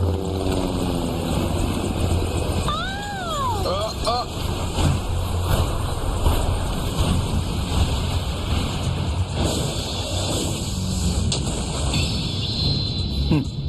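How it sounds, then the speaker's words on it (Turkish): A helicopter drones steadily throughout, its rotor noise constant and fairly close, while people talk over it and a brief rising whistle appears early on. "Bu helikopter de nereden çıktı böyle?"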